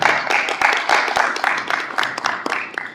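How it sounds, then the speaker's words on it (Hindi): Audience clapping at a Vibrations Group press conference, a dense, steady patter of many hands filling the room, with some voices mixed in. "तो एक बार जोरदार तालियां।"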